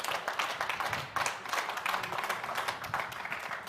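Audience applause at a Hindi poetry gathering, a soft, steady patter of clapping heard at a distance for a few seconds with no speech.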